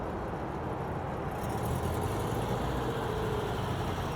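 Porsche sports cars, among them a Carrera 3.0 and a 356, roll in to an early-morning Japanese cars-and-coffee meet, a steady low engine rumble that swells slightly partway through, with no talk.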